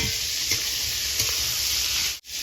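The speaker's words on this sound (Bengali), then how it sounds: "আদাটা এইভাবে ভেজে নেবো আমি" Ginger fries in a pan with a loud, constant hissing sizzle and a couple of faint utensil touches, cutting off abruptly near the end.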